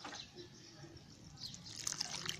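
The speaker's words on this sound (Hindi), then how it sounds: "ये पानी डाल देना है इसमें।" Water poured from a small vessel into dry potting soil in a small pot holding a transplanted echeveria succulent, giving a faint, steady trickle that swells slightly near the end, heard alone at low level.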